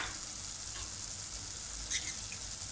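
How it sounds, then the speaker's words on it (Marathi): Onion-garlic masala sautéing in oil for a spicy misal tarri, giving a steady close sizzle with a brief clink of the spoon near the end; no one speaks. "हा 1 चमचा कांदा लसूण मसाला, हे पण आपण छान अगदी तेल सुटेपर्यंत परतून घेऊया"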